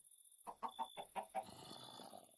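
Chickens clucking in a video game: a run of five or six short, close clucks in quick succession, then a softer trailing cackle, with nobody talking.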